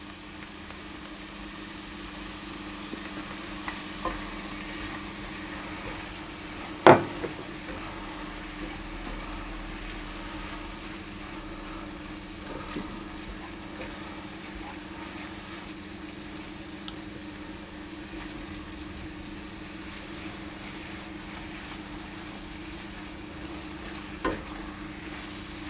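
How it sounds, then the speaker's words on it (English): Shallots for mushroom duxelles sizzle quietly and steadily in a pan under a faint background hum, with one sharp knock of the pan or utensil near the middle and a few lighter clicks. "I'm going to put in my shallots and toss those around, and I'm going to just cook those for a couple of minutes"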